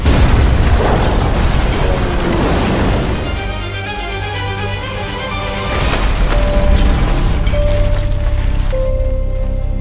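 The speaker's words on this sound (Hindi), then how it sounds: "बड़े धमाके का वक्त आ चुका है।" A big explosion in a TV drama scene, a loud booming blast with rumbling debris and crackle that settles into a lingering tail, followed by faint tonal ringing, no talking.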